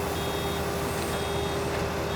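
A baler in Farming Simulator 19, the Lizard Multibaler Kombi, sounds a steady electronic warning beep, a continuous tone over a dense machinery hum, loud and close, with no talking.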